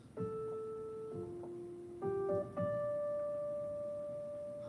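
A short, soft melodic motif from the Zelda: Tears of the Kingdom soundtrack, a few sustained tones played one after another, clear and clean, with a long final note held.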